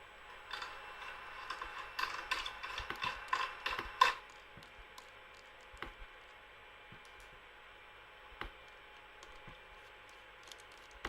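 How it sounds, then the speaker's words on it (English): Small screws being backed out of a laptop's CPU and GPU heatsink and fan assembly: a cluster of light clicks and ticks early on, then a few sparse isolated taps, faint and close with no talking. "I'm going to have to remove all of the screws connecting the heatsink to the CPU and the fan assembly"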